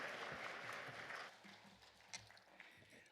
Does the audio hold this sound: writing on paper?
no